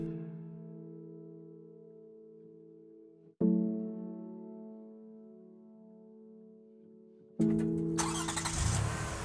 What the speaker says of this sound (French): Tu démarres ta voiture et roules tranquillement vers ta destination.